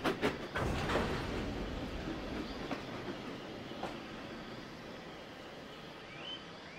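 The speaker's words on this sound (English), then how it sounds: "Edward came steaming in with all the old coaches he could find." Steam engine pulling old coaches in the Trainz railway game, a steady rumbling roll with rhythmic clickety-clack of wheels on rail joints, moderately loud and continuous without talk.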